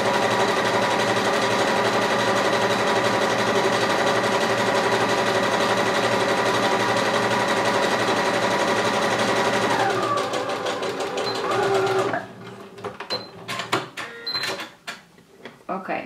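Sewing machine stitching elastic onto fabric for bikini straps, a steady fast whirring run for about ten seconds that slows and stops, followed by scattered handling clicks and rustles.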